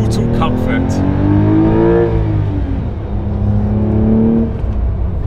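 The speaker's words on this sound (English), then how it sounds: "So Porsche's twin turbo flat six," A 2023 Porsche 992 Carrera T with a manual gearbox and twin-turbo flat-six drives along, its engine note rising and falling steadily throughout as the car accelerates, with a voice talking over the drone.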